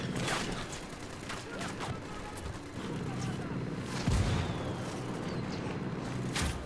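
An artillery indirect fire strike in Ghost Recon Wildlands, a series of deep booms and crackling blasts rolling across the battlefield at moderate distance, with a voice talking over parts of the barrage.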